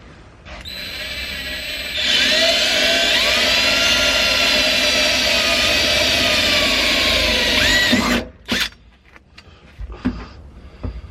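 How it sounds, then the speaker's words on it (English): A loud, steady power drill whines continuously for several seconds, then stops, followed by a few brief clunks and handling noises. "So I'm going to mark this with a Sharpie and then drill some holes."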